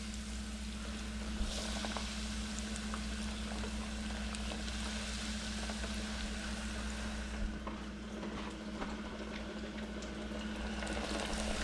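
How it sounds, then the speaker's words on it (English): Breaded fish fillets deep frying in hot grease, giving a steady, dense bubbling hiss that runs unbroken and fairly loud throughout, with no voices. "And then right into the grease, boom."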